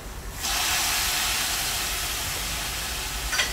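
Chicken liver drops into a hot pan of onions and peppers, bursting into a sudden, loud, close sizzle that holds as a steady hiss and then fades slightly.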